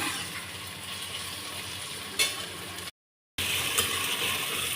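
Onions and potatoes frying in a pan over a medium gas flame, a steady close sizzle with a brief clatter midway and a short silent gap, no voices.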